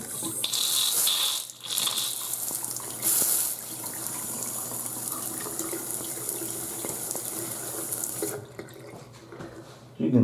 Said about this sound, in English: let this flush out a little bit because there's going to be little crumbs and stuff in there